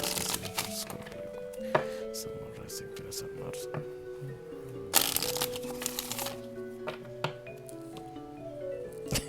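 Tarot cards shuffled and drawn from an oracle deck, giving soft repeated riffling and tapping close by, with music playing underneath and a brief louder flurry midway.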